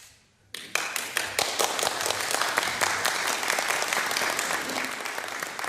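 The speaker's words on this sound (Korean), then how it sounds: "참석자들 사이에서 박수가 터져 나옵니다." Dense applause breaks out among attendees at a meeting in Hiroshima between the South Korean president and Korean atomic-bomb survivors, starting sharply after a brief quiet moment and continuing steadily and loudly, with no talk over it.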